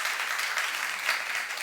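Congregation applauding in a church service, a soft, brief wash of many hands clapping at a distance, fairly faint and uniform.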